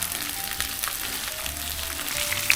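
Dried danggit fish sizzling in hot oil, a soft continuous crackle and hiss with faint pops, fairly quiet and close.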